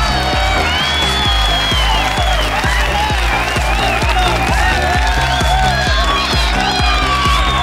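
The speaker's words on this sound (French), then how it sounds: "Des applaudissements sont maintenant de rigueur." Loud applause and cheering from a conference audience at a COVID-19 network launch, sustained clapping with whoops over a rhythmic music track carrying a steady beat and melody throughout.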